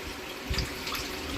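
Rice being washed by hand in a pot of water as part of a school cooking activity, with a brief close swishing and trickling of water, soft and steady without talk.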